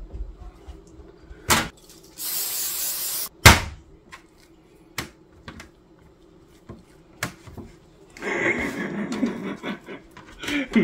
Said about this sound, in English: Yep, I shouldn't have sprayed the pan.